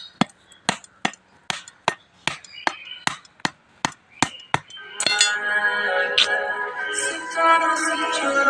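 A whole coconut struck with a blade to chop it open: about ten sharp, hard, evenly spaced chops close by, then busier clattering and rustling as the shell gives way and the pieces are handled.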